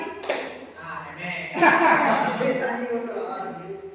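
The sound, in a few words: students clapping hands in a concentration exercise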